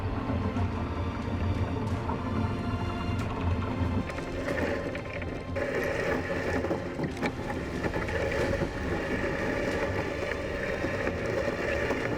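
Fishing boat engines on a scallop boat roar steadily from the deck, a loud continuous low drone mixed with wind and sea noise, with no voices.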